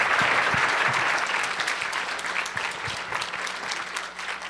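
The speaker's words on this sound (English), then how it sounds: "Another round of applause for Mildred Muhammad." Luncheon audience gives a dense round of clapping that starts strong and slowly thins out over a few seconds, with no talking over it.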